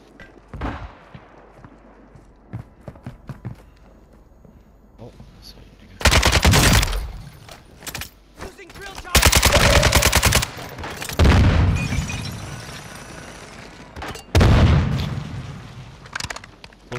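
Video-game gunfire rattles in long, loud automatic bursts between lighter scattered shots, with booms mixed in and people talking beneath the shooting.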